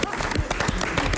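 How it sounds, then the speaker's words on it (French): A television studio audience claps steadily, with a dense patter of hands running throughout while voices talk over it. "Je pense qu'on peut l'applaudir."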